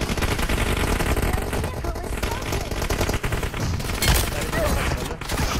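Dense video-game gunfire rattles almost continuously in close, loud bursts of rapid shots, with players talking over it.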